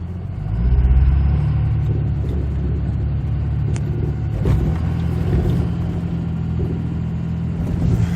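A car engine rumbles steadily while being driven on a desert road near the Trona Pinnacles and Alabama Hills, with a surge of acceleration early on and then a continuous low drone.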